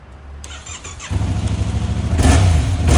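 A motorcycle engine that has sat through winter is cranked with a brief starter whir, catches after about a second and settles into a loud, close, uneven idle, then revs up near the end.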